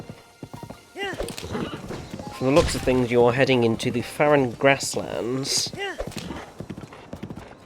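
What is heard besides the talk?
horse hooves riding in Zelda: Breath of the Wild video game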